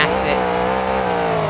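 A monster truck engine revving hard at a Monster Jam show in Brisbane, a loud, sustained roar with a steady droning pitch and an arena crowd feel, unbroken through the moment.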